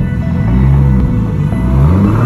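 A stock 2JZ GTE engine fitted with a Boostlab 6870 turbo runs in a BMW on a dyno, giving a loud, deep, steady rumble at close range for a few seconds, with no talking.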